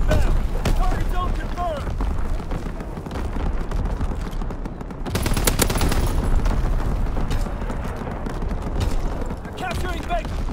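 An aircraft gunner strike in a multiplayer shooter, heard as dense rolling bursts of heavy gunfire and booms that swell midway, over constant battlefield noise and chatter.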